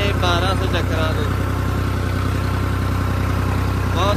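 A New Holland 3630 tractor engine runs steadily at 1200 RPM, a loud continuous low drone with a person talking over it early on.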